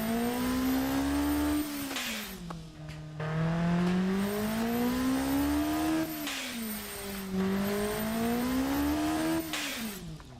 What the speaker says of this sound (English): I'll just let the engine run for you now